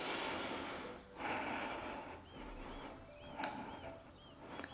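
A person doing a yoga or Pilates exercise breathes audibly, with several soft, airy inhales and exhales sounding close and fairly faint, plus a few faint high chirps in the background.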